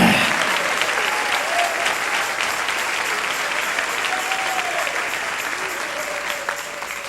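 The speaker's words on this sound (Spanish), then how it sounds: "Dale un aplauso al Rey." Sustained applause fills a church service as a congregation claps for the King, a dense, steady wash of many hands lasting throughout, with faint voices and a sustained tone rising from the crowd.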